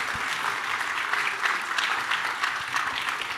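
Steady audience applause at a talk, a room full of people clapping continuously at moderate loudness with no voices over it.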